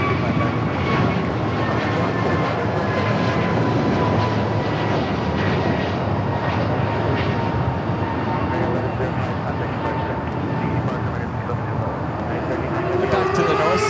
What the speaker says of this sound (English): The Dreamliner coming in from Osaka, Japan.